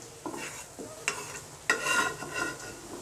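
Koi fish frying in a pan of hot oil as pieces are lifted out, a steady sizzle broken by a few sharp metallic scrapes and clinks of a utensil, close and moderately loud, with no talking.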